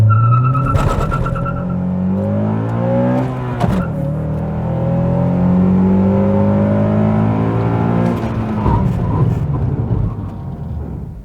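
A Honda Accord CL9 accelerates hard from standstill to 100 km/h with rising engine revs and gear changes, then brakes back to a stop, the engine note falling away near the end.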